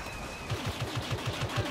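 Blaster fire in Star Wars Battlefront Walker Assault, a steady burst of about eight evenly spaced rapid shots over a background rumble, moderately loud and without talk.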